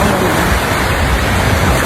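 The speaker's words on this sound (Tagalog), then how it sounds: "Sobrang lakas ng alon." Strong waves pounding a beach on Boracay at night, a loud continuous broadband roar of surf filling the whole short stretch with no pauses.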